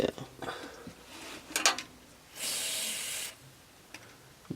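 Aerosol penetrant sprayed onto a badly rusted exhaust on an RX7 during a big bore exhaust install, one steady close hiss lasting about a second amid faint workshop noise and brief shorter bursts.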